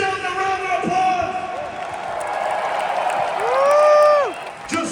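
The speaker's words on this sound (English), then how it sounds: "so give yourselves a round of applause!" Huge stadium crowd at a farewell concert roars and applauds in a sustained wash of noise, swelling to a loud peak near the end, while a voice shouts over it.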